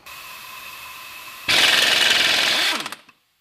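A bolt on a Toyota 22RE engine being loosened with a power tool, giving a single loud, rattling burst of just over a second after a quiet hum, then winding down to silence.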